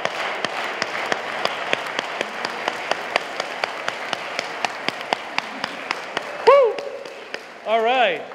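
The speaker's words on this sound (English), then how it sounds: "Let's hear you clap." A crowd at a town meeting in Richmond claps in a steady, rhythmic beat, with crowd voices rising above the clapping near the end.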